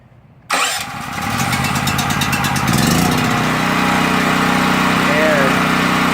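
A WEN portable generator with electric start fires up after brief quiet, then settles into a loud, steady close engine drone that continues to the end.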